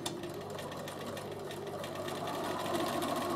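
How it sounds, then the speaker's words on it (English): Bernina sewing machine running a steady straight stitch, a continuous fast mechanical whir with rhythmic needle ticking, close and moderately loud, growing slightly louder toward the end with no talking. "So straight stitch, sew it on first"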